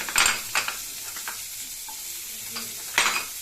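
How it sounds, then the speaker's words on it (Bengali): Carrots and other vegetables tossed and stirred in a hot pan, with a few sharp scraping stir strokes over a soft, steady sizzle, close and moderately loud. "অমনি একে একে ক্যাপসিকাম আর বেল পেপার ছাড়া সবগুলি সবজি দিয়ে দিচ্ছি"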